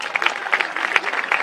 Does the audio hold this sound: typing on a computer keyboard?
no